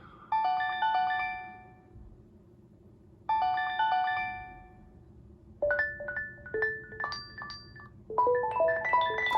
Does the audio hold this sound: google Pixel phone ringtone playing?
yes